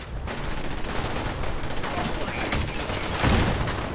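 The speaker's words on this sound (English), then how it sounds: "y'all got infinite ammo on these cannons?" Cannons fire in the Fallout 4 video game, a dense, rolling barrage of booming blasts that hits hardest near the end, with a voice talking over it.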